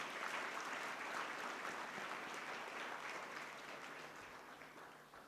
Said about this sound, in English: Ladies and gentlemen, can we have a round of applause as well?